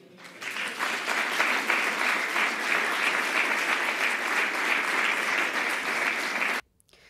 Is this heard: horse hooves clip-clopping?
no